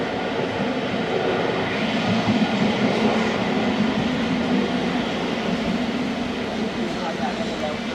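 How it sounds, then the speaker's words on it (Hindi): Inside an economy class coach of the Pak Express passenger train between Lahore and Khanewal, a loud, constant rumble and rattle of the running train fills the cabin, with voices mixed in. "इस ट्रेन में हम सफ़र कर रहे हैं।"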